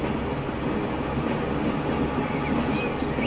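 A freight train rolls along in Transport Fever 2, a loud continuous rumble and clatter of wagons that holds steady throughout, with a faint higher squeal near the end.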